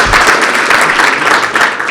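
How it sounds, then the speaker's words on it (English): Audience applause at a chiropractic talk event, a dense, continuous burst of clapping from many hands, loud and close, lasting the whole moment with no talk over it. "Give me a round of applause."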